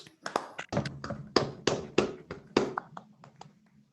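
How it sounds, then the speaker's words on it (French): A small audience gives scattered, sparse applause for speaker Jérôme Mizeret, a handful of sharp individual claps that thin out and fade over a few seconds. "Je vous demande d'ouvrir au micro pour un bel applaudissement pour Jérôme Miseret"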